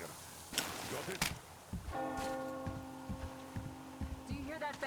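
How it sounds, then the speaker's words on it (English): A bell rings in the snowy winter setting of the video game Metro Exodus, a sustained tolling tone with overtones heard amid footsteps and thuds, with talk in the background. "Do you hear that bell?"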